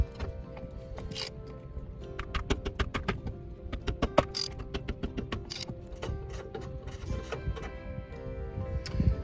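A ratcheting socket wrench loosens bolts on an RV slide-out, a rapid run of close metallic clicks in uneven bursts against a faint mechanical background.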